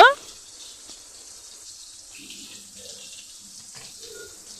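Water poured into a spice paste of ginger paste with turmeric, cumin, coriander and chili powder while it is mixed: a soft, steady watery hiss throughout, faint and close, after a brief sharp sound at the start.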